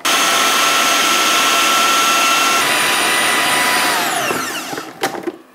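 A blender purées peas and potatoes for dumplings. It gives a loud, continuous high-pitched whir for about four seconds, then the motor winds down and stops, followed by a couple of faint clunks.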